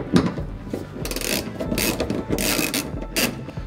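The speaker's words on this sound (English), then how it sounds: "So this is just a Torx T50 bit that I'm using to remove this." Torx T50 bit on a ratchet backing out a bolt inside a Ford Transit Connect cargo area: close, rapid ratcheting clicks and metallic grinding in short bursts, with no talking.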